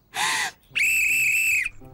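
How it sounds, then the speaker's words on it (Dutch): Two sharp whistle blasts, a short breathy one followed by a longer, shrill, steady tone, close and loud. "Dit fluitje is geweldig."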